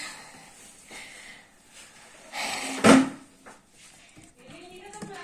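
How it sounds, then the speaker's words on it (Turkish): A door is pushed shut inside a home, giving one sharp knock-like thud midway through, with faint household sounds and distant voices around it. "Kapıyı kapatıyorum."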